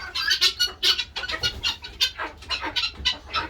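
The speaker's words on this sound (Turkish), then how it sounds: "Şurada bir tavuğumuz var." Chickens cluck repeatedly in short bursts, close by, with a lively irregular rhythm and no talking.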